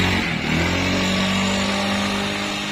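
A Honda Vario fuel-injected scooter engine revs up close. It was fixed for sputtering at high rpm and now holds a steady, smooth buzz throughout with no spoken voices.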